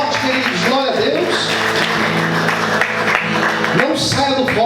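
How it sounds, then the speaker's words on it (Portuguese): A church congregation claps and cheers during a worship service, a steady wash of applause lasting throughout, mixed with loud voices and shouting over it. "Aplaude o Senhor mais forte, queridos, glória a Deus."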